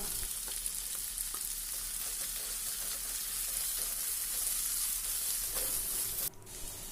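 Steady, loud sizzling of chopped onions, ginger-garlic paste and green chillies frying in hot oil, a continuous crackling hiss with occasional soft stirring, no voices.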